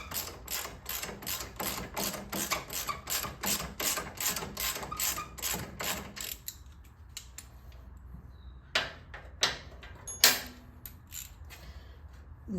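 A torque wrench ratchets in rapid, steady clicks while loosening bolts on a 2009 Police Special motorcycle. The clicking is close and crisp, then pauses and returns as a few scattered louder clicks.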